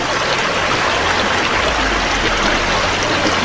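River water flowing steadily, a dense, loud, even rush close by with no breaks and no voices.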